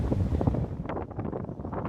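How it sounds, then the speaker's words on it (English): Strong hurricane wind of about 55 knots roars and buffets a microphone in continuous gusts at a marina, a dense rumbling rush with no voices. "we just hit 55 knots of wind hitting us right now"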